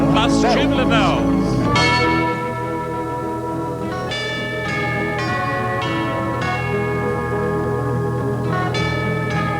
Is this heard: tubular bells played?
yes